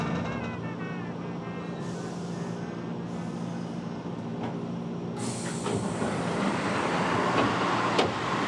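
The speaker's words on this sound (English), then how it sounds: "Goes my train." A Sanyo Electric Railway train in Japan rumbles steadily past nearby at Hitomarumae Station, its noise swelling and brightening partway through with rattling and a few clanks.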